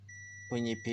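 A multimeter in continuity mode beeps while probing capacitors on a laptop motherboard for a short, giving two loud, close tonal beeps that follow a faint steady whine.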